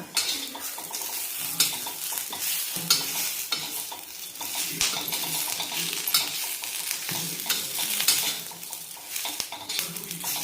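Onion sautéing in oil for a green chilli mutton curry, steady loud sizzling with frequent scraping and clattering strokes of a spoon against the pan, close up and without speech.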